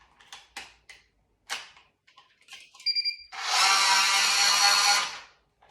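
A Strikemaster lithium 24V electric ice auger gives a short, high warning beep after a few handling clicks, then its motor whirs loudly and steadily for about two seconds before stopping.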